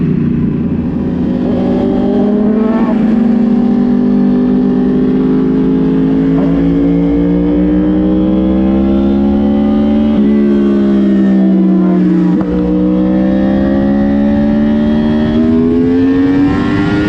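A Yamaha R1 sport motorcycle engine screams loudly and continuously at high revs, pitch rising and dipping through gear changes as it accelerates at speed, reaching around 295.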